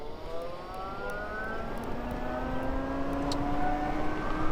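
A Ryvid Anthem electric motorcycle in Eco mode accelerates at full throttle, its motor whine rising steadily in pitch over a constant rush of wind and road noise, with no talking.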